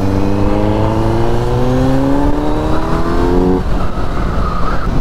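A Kawasaki Z900 motorcycle's aftermarket exhaust revs loudly and close, its pitch climbing steadily in a long pull before dropping off sharply into a rougher idle rumble.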